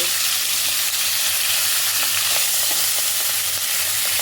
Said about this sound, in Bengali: এটাকে উল্টে পাল্টে দু পিঠই ভালোভাবে লাল লাল করে ভেজে নেব